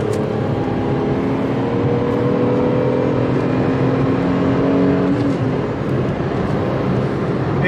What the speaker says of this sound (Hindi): टर्बो की विसल सुनना है